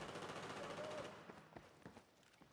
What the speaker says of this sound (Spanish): Se han escuchado tiros por aquí